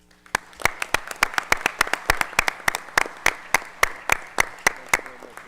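Attendees at a school district board of trustees meeting give a steady round of applause, a small group clapping in a fairly regular rhythm with distinct individual claps throughout.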